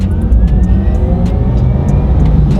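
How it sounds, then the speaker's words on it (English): A Porsche Taycan Turbo electric car under hard launch acceleration, giving a loud, steady low hum with a faint rising whine throughout, heard from inside the cabin. "It's got this hum that's like they obviously add that into the car."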